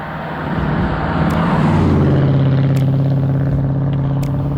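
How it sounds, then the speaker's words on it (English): Loud, continuous roar of cars passing on a road, with a deep engine rumble building and holding steady throughout. "Loud cars, here we go."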